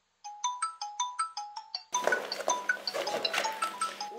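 A mobile phone ringtone sounds in a Chinese drama scene: a quick run of bright, evenly spaced electronic tones that suddenly gives way to a fuller, busier melodic ringtone continuing to the end.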